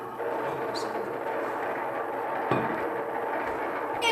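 A train runs on its rails with a loud, close, continuous rumble and rattle. A sharp knock lands midway through, and a brief clank comes near the end.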